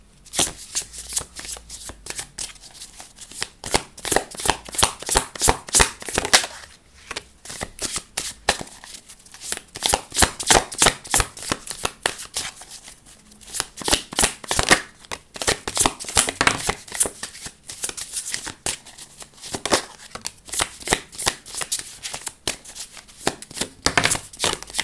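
Tarot cards are shuffled in long, rapid riffling bursts, a dense crisp flutter of card edges repeating over and over with brief pauses between passes, close and fairly loud with no voices.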